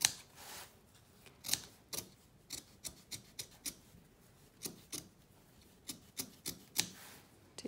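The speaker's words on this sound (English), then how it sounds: "Be very, very careful not to actually cut your facing, but to just cut within it, following your stitching line." Scissors make small snips through excess fabric beneath a clutch facing, close by. The crisp cuts come in an irregular, fairly quick series, with short rubbing sounds between them and no voices.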